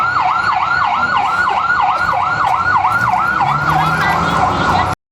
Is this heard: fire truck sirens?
yes